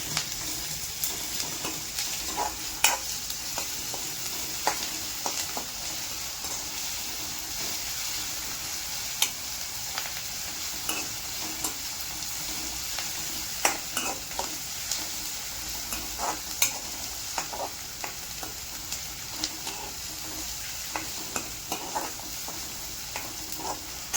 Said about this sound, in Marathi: आले लसूणची पेस्ट टाकली आहे. आता चांगलं परतून घ्यायचं.